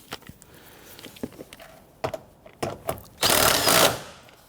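Lower strut bolt being tightened on the rear suspension of a 1992-1996 Toyota Camry, with scattered metallic clicks and taps, then a loud burst of ratcheting near the end, close up with no talk.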